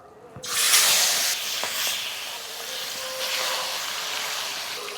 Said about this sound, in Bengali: এবার ওই তেলের মধ্যে ম্যারিনেট করা মাটনটা দিয়ে দিচ্ছি